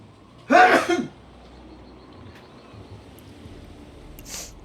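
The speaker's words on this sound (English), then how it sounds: "I think I'm going to sneeze." A single sharp sneeze bursts out near the start, then only quiet room noise follows, with a faint small sound near the end.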